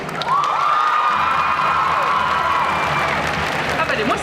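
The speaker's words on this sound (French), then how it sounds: "je voudrais quand même un tonnerre d'applaudissements pour la cosplayeuse qui vient de passer" Crowd at a geek festival cosplay show in Bordeaux cheers, whoops and claps for a cosplayer, a sustained wash of shouting and applause with a long high whistle or squeal rising above it.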